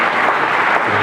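A church congregation claps steadily and loudly during a pastor's ordination service, a dense wash of applause.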